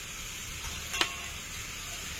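Spices including turmeric and Kashmiri red chili powder being stirred and fried for a restaurant-style vegetarian paneer masala, giving a quiet, steady sizzle with one brief scrape of a utensil.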